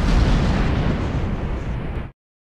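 A grenade explodes in the video game GTA with a loud, close, rumbling blast that lasts about two seconds and then cuts off abruptly into silence.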